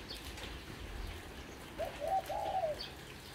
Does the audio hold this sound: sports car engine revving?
no